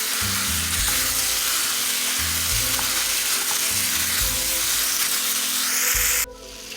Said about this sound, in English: break the meat apart and make sure that everything combines with the onion and garlic